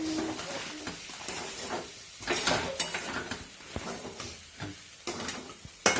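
Kanda poha of soaked flattened rice and onion being stirred and mixed in a hot pan, with steady sizzling and repeated scraping strokes at close range.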